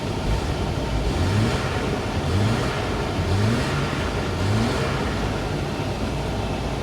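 An old car's engine idles roughly while the car sits still, a steady low rumble with a slightly uneven, periodic lumpy pulse running throughout.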